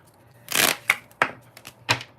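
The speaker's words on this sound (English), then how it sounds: "Look at the full card just popping out. I didn't even start yet. Just shuffling." A deck of playing cards shuffled by hand during a live reading, giving a burst of riffling followed by several sharp, separate card snaps and flicks, close and fairly loud with no talking.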